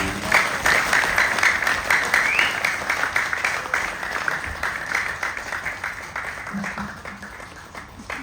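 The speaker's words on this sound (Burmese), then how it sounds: "အားလုံးလက်ခုပ်တီးပြီးခေါ်ပြကြရအောင်" Audience applause welcoming a newly promoted pastor, steady clapping from a crowd that runs through the whole stretch and slowly fades toward the end.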